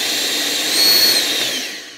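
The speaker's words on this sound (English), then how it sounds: "the thing I like about a leaf blower that's battery powered is I can just go and grab it and just instantly have full power" A battery-powered CAT 800 CFM leaf blower runs at full power with a steady, loud, high-pitched whoosh that swells slightly midway, close by and without talk.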